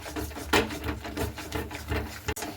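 A utensil stirring aubergine in mustard oil inside a pressure cooker, repeated scraping and rubbing strokes against metal in an uneven rhythm, close and fairly loud.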